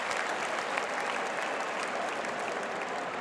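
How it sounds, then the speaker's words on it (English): A football crowd applauds at the Sunderland v Burnley Championship match, steady distant clapping from a large stadium crowd, moderately faint and continuous. "He'll get a round of applause"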